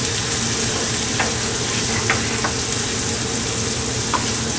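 Onions sauté in oil on a hot tawa before minced meat goes in, a loud steady sizzle with occasional stirring scrapes close up.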